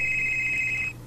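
A telephone rings for an incoming call in a Korean MapleStory 2 live stream, a steady high electronic ring tone held for about a second, with a low hum beneath it before it cuts off.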